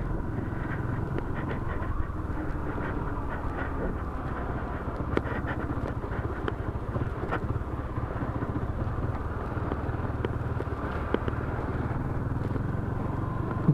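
A Honda CB250 Twister motorcycle, newly bought, ridden along the road with a continuous low engine drone and wind rumble that stays steady and close throughout, with no voices.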